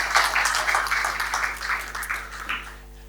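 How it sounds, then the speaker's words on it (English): Conference audience applauding during a talk at a speakers' summit in Bali, a steady wash of many hands clapping that tapers off and fades out near the end, with no talk over it. "give yourself a round of applause"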